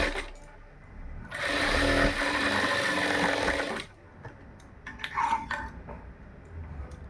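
A sewing machine stitches the lining of a blouse in a steady, whirring run of about three seconds, followed by a few shorter bursts and clicks as the fabric is adjusted.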